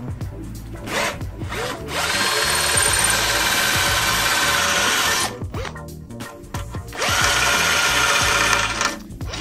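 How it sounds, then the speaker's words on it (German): A power drill with a small bit whirs loudly in two long bursts, grinding into a metal screw while fitting a car tow hitch, with short pauses and handling clatter between runs. "Bohrt dann mit einem kleinen Bohrer in die Schraube rein."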